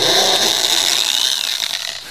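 A drill whines steadily, widening a hole in a guitar body. The sound is loud, close and continuous, then gradually eases off.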